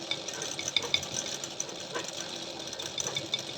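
An embroidery sewing machine stitches the outline around a flower's petals, giving a steady, close whirr with light rhythmic ticking and no voices.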